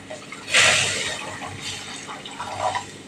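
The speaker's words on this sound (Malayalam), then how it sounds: "ഇത്തിരി കൂടി വെള്ളം ഒഴിക്കുക." Water is poured into a cooking pot over ground spice powder while preparing a mango curry: a short splashing gush that swells suddenly, then trails off into softer trickling, close and clear.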